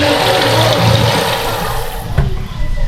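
A cup of water poured into a cooking pot while preparing a dish, a loud close rush and splash that tapers off near the end.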